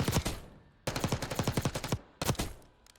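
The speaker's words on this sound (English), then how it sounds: "I'm just shoot at the wall without even touching the right stick" Automatic gunfire into a wall in the shooter Black Ops 6, three sustained bursts of rapid, evenly spaced shots, loud and close, separated by short pauses.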